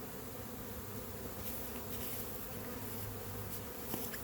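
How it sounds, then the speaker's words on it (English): Honeybees buzz around a hive during an orientation flight, a steady, diffuse hum of many insects with faint individual passes, no voices. "Looks like I've got an orientation flight going on"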